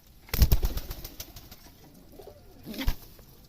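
Racing pigeons at a pigeon farm, a group of six feeding, with soft coos, fluttering wing flaps and pecking sounds clustered at the start and again near the end, close and fairly quiet.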